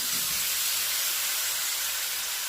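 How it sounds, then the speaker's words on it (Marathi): Steady hiss of steam rising as water is sprinkled over cauliflower and potatoes frying in a hot pan, a soft continuous spray-like sizzle with a faint low rumble underneath. "तर यावर आता थोडंसं पाणी शिंपडायचं"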